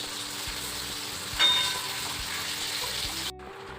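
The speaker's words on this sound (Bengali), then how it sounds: "এখন সকাল সকাল আমি উঠে গেছি আর আমি এখন মাছ ভাজছি।" Fish frying in hot oil for a home meal, a steady broadband sizzle running throughout with a brief louder crackle midway, close and alone without talk.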